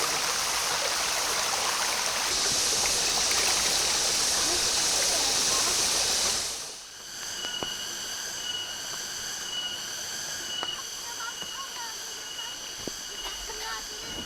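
A small river stream at a riverside campsite rushes with a steady broadband hiss, loud at first and then quieter and more distant after a sudden change, with faint clicks and a high tonal hum over it.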